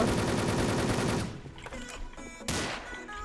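Automatic gunfire in the online shooter Wolfteam on a sandstorm map, a rapid, close, evenly spaced burst of shots that breaks off into a few scattered single reports and electronic game effects.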